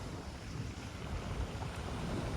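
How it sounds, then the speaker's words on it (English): Wind buffeting the microphone over a steady wash of sea waves on the Greek coast near Kavala, a continuous broadband roar without distinct breaks and no talking. "we finally made it to the sea."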